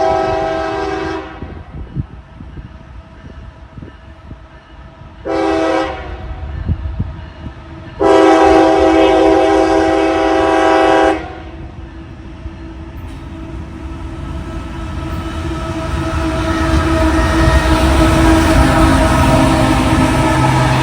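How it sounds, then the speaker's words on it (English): A CSX train horn blasts three times, short, short, then long, over the steady rumble of a passing southbound grain train that grows louder toward the end. "This mystery southbound on the BERT line would be revealed to be a grain train"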